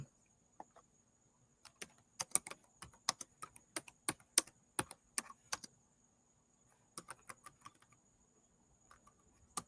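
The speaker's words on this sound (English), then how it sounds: "Let me type that." Computer keyboard typing in bursts of quick clicks, close and fairly quiet, with a pause before a final shorter run of keystrokes.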